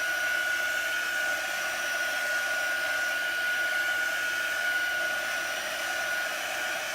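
Hair dryer blowing on chalk-painted canvas, a continuous loud whooshing whine with a steady tone, held evenly the whole time with no talking.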